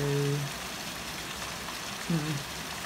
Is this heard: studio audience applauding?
no